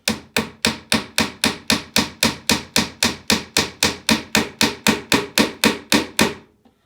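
A hammer drives glued wooden dowel rods into a wooden computer desk with about twenty steady, evenly spaced blows, each a close, sharp knock with a short ring, and no talking.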